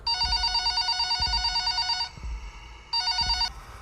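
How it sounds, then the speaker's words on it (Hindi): A telephone rings in electronic bursts, each a bright warbling tone lasting about two seconds, with a short pause between bursts and faint low thumps underneath. "फोन की घंटी बजती है"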